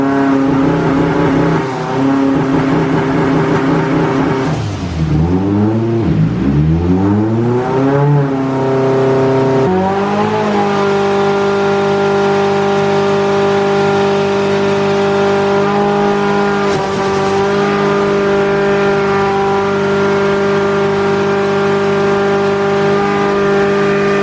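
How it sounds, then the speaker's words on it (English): A stroked SR20 engine in a Nissan 180SX runs hard on a dyno with a small misfire, loud and sustained droning revs that dip and climb in sweeping pitch before holding a steady high-rpm buzz, no voices over it. "This is where we ran into the first issue with a small misfire, as you can hear."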